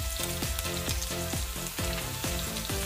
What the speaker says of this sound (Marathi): जिरे मस्त तळतळले, त्यामध्ये ठेचलेला लसूण, सुकलेल्या लाल मिरच्या